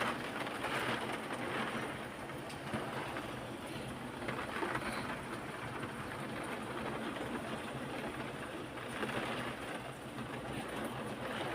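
Steady, broadband hiss of rain falling during Typhoon Kristine in the Philippines, constant and moderately loud throughout with no voices.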